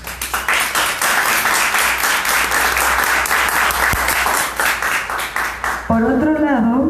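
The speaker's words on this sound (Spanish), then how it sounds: "Para quien pido un aplauso," An audience breaks into sustained, dense applause, loud and steady for about six seconds before the clapping stops and a voice begins speaking.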